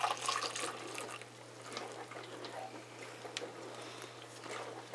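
Running water splashes in a sink as utensils are rinsed during coconut tallow soap making, a faint, continuous trickle with light clinks over a steady low hum.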